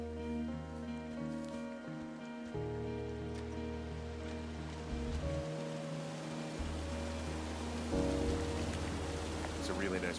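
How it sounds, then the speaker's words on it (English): A waterfall in the video game Firewatch rushes as a steady, broad wash of water, with layered music or game tones sustained over it. "It's a really nice waterfall down here."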